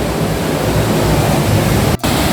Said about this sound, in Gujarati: આ પાણીનો તમે સીન તો જોવો કેવો અવાજ આવે